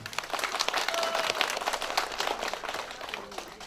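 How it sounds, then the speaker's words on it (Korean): Applause for a section chief at a nursing hospital's trot and janggu volunteer performance, a small indoor audience clapping steadily and closely for several seconds with no talking. "우리 이제 과장님한테 박수 한번 주세요"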